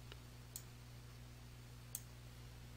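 Two faint, sharp mouse clicks, about a second and a half apart, over a steady low hum while a split line is dragged between panes in Microsoft Project 2016.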